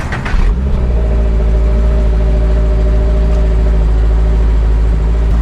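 A cold 2022 Subaru BRZ engine idles with a steady, deep, loud drone and a smooth low rumble, with no revving.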